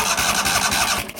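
A Yazoo YTKC22 three-wheel mower engine, an older neglected machine, cranks over briefly with a fast, whirring, chattering starter rhythm, close and unvoiced.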